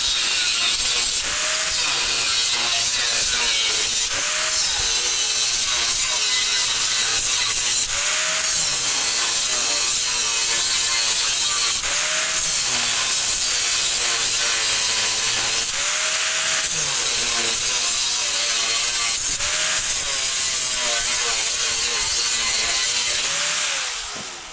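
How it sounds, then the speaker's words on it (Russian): An angle grinder cuts excess metal off a steel frying pan, a loud, close, continuous high-pitched whine with slight pitch dips as the disc bites in, running unbroken throughout with no talking. "Потом берем болгарку и отрезаем лишний металл от сковородки."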